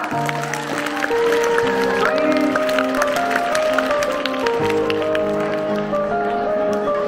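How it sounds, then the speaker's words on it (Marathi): Students clapping at a 79th Independence Day ceremony at a village school, a dense burst of applause over background music with a voice nearby. "मुलांना एकदा जोरदार टाळ्या वाजवा."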